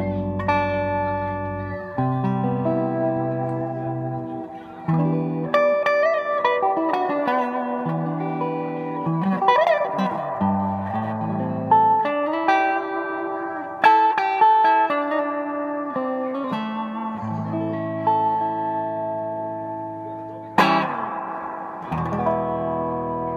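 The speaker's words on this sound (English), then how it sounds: "It's a tube reverb. It sounds very nice." Electric guitar played through a tube amplifier with tube reverb: a continuous run of chords and single notes with a lush reverberant wash, close and steady with no talking.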